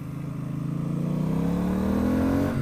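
Triumph Street Twin motorcycle engine on a country road, a steady low drone with a slowly rising pitch as it pulls along, holding a constant near and fairly loud level with no talk.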